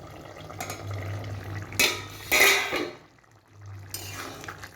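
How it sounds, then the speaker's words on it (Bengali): A lid comes off a pot of white potato curry cooking over a medium gas flame: a few metallic clanks and scrapes, one sharper clatter near the middle, then a soft bubbling hiss with a low hum underneath. "ঢাকনাটা এবার খুলছি।"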